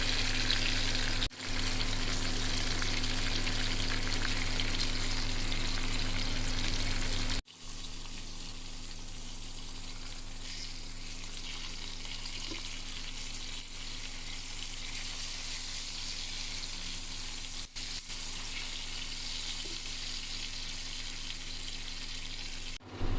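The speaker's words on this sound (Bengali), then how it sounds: "এবারে একই তেলে নুন হলুদ দিয়ে ইলিশ মাছের মাথাটাকে ভেজে নেব" Hilsa fish head frying in oil with salt and turmeric gives a steady, close crackling sizzle across the whole stretch, dropping slightly in loudness partway through but continuing without pause.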